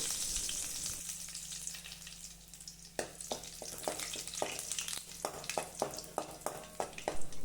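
Curry leaves and garlic hit hot oil for rasam, a bright close sizzle that crackles and spits in quick irregular pops over a steady frying hiss, with soft stirring; no one speaks.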